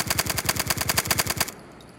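Suppressed rifle firing in an Unreal Engine 5 game test, a rapid automatic burst of about fifteen evenly spaced shots that stops abruptly, leaving a short fading tail.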